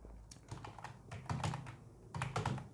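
Steady typing on a computer keyboard while filling in a spreadsheet, with quick clusters of key clicks in uneven bursts, close and fairly quiet.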